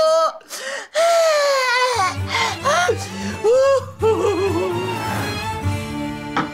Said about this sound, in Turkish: Bir altta sürekli bir fonda bir ağlama.